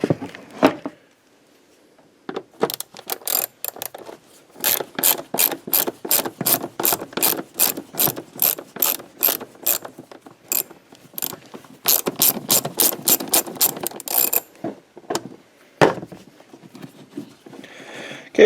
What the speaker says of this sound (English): I'm going to use an extension with my ratchet and my socket